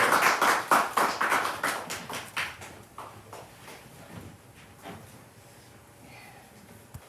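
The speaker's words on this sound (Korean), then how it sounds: "우리 한 번 더 축복에 박수하겠습니다" A church congregation at a Sunday morning service claps in blessing, loud rhythmic unison claps at first that thin out and fade into a quiet room after about three seconds, leaving only scattered faint taps.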